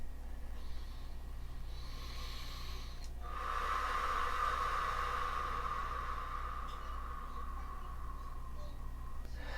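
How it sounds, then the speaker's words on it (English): Slow, deep belly breathing during a relaxation exercise, with a long, steady, breathy exhale building midway and holding for several seconds before tapering, close and quiet with no talking. "So that's called belly breathing."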